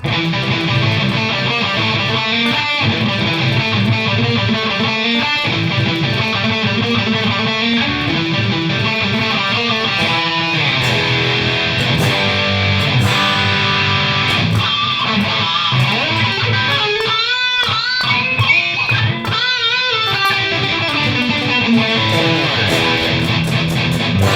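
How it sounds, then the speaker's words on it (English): Heavily distorted electric guitar plays chugging riffs and sustained chords, loud and dense without pause, with a thick metal tone. "Let's check out this metal preset."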